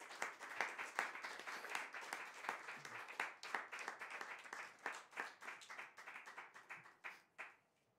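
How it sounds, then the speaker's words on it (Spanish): An audience at a Christmas event applauds a singer, a close, lively patter of many hands that loosens into scattered individual claps and dies away near the end. "un gran aplauso para él, por favor"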